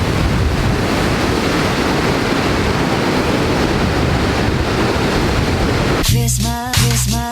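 Ocean waves surging in a rough seaside pool too dangerous to swim in, a loud continuous roar of surf mixed with wind buffeting the microphone, with a voice speaking over it near the end.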